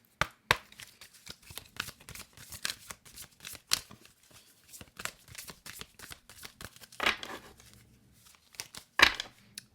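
A deck of oracle cards being shuffled by hand, soft irregular riffling and slapping of card stock with a few sharper snaps, close and fairly quiet, with no talking.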